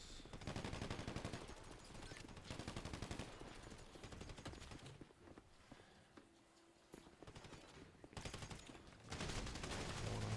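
Rifle gunfire in a team deathmatch shooter video game, rapid automatic bursts crackling in long runs with brief lulls between volleys, loud and close.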